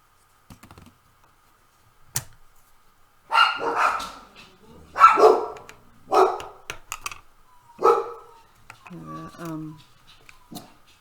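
Dogs barking indoors at goats outside, several sharp barks in irregular bursts at close range, with a few clicks and short yelps in between and a voice heard near the end.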